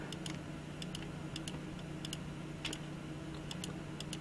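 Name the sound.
computer mouse clicking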